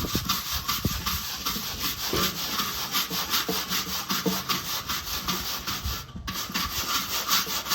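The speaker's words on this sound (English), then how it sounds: "we are going to scrub just a little bit here" Scrubbing a BBQ grill with cleaner, a steady rasping back-and-forth brushing of close, loud strokes in a quick, regular rhythm with no talk.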